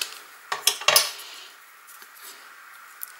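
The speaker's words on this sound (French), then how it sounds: "Je vais couper les petites tiges." Small flower stems being snipped for a craft kit arrangement: a few sharp close clicks and metallic snips clustered early, then quiet with a faint click near the end.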